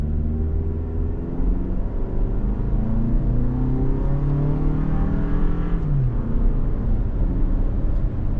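A 2025 Toyota RAV4 XLE AWD in sport mode with manual shifting accelerates hard, its engine note climbing in pitch through rising gear steps with a short dip at a shift, loud and steady from inside the cabin.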